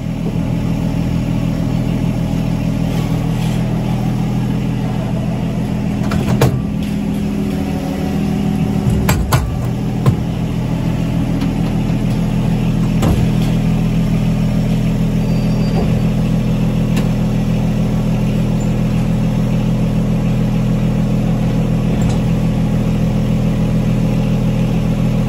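An electric trailer jack motor runs with a steady, loud mechanical hum and low whine throughout, broken by a few brief clunks partway through.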